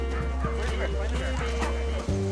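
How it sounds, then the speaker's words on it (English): Karelian bear dogs bark and yip in short bursts over a steady low rumble, close and loud, with busy outdoor commotion around them during a bear-scaring operation. "Karelian bear dogs scare the bear far"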